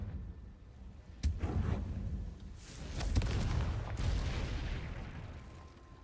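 Confringo spell blasts in a Harry Potter video game land as several sharp bangs, each with a booming tail, over a steady rumble of game sound and no talking.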